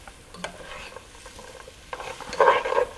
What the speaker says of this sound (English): I'm going to be sauteing these until about 2 minutes or longer